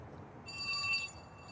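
A phone rings faintly somewhere in the audience at a Veterans Day ceremony, a thin high electronic tone lasting under a second against soft room noise, distant and quiet.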